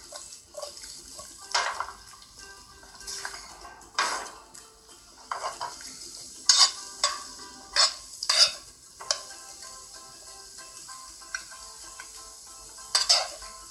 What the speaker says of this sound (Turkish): Son birkaç defa daha şöyle güzelce karıştırıyorum